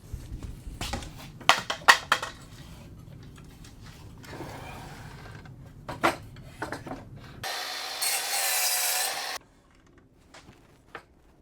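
A wooden shelf piece is trimmed down with scattered scraping and knocking, then a steady two-second burst of cutting noise ends abruptly, followed by near silence and one last tap, all close by.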